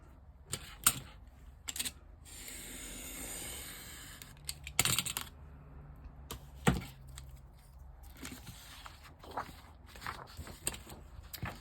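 Paper being trimmed with a cutter or scissors for a double envelope folio, a few sharp close cuts and crisp rustles separated by quiet pauses, with no talking.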